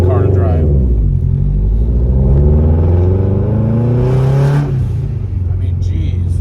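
A 500+ horsepower Subaru Forester XT with a loud exhaust rumbles deep and heavy from inside the cabin, rising and falling in pitch as it accelerates, with a brief lift near the end.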